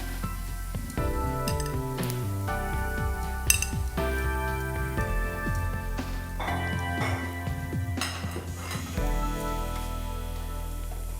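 A spoon scrapes and clinks against a pan while ground, cooked meat is stirred and fried for Kerala-style erachi puttu. The knocks are repeated and irregular over a steady low sizzle, close and moderately loud, and nobody speaks.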